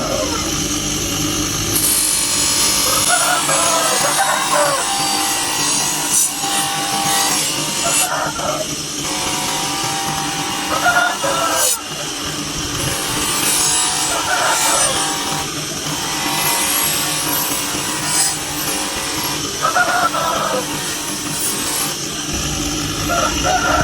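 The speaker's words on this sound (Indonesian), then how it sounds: "Ini tinggal proses pengasahannya." Steady abrasive scraping of a steel sickle blade rubbed against sandpaper, continuous and close, with rhythmic strokes repeating throughout and no talking.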